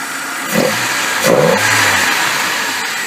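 A 1994 Saturn SL2's 1.9 liter twin cam four-cylinder engine idles and gives a couple of quick, short revs rising and falling, heard up close with no voices.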